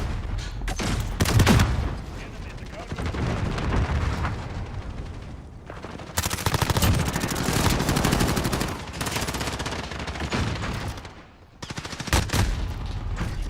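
Automatic hip-fire gunfire in a video game: loud, close bursts of rapid shots with booming impacts, broken by short gaps and a brief lull near the end, with no talking over it.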